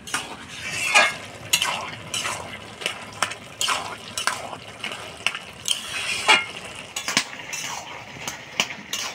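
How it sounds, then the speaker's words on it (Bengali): Bottle gourd stirred in a cooking pan with a spatula, repeated close scraping strokes over a soft steady sizzle, irregular in rhythm and fairly loud, with no talk. "লাউটা ভালো করে নাড়াচাড়া করে নিলাম"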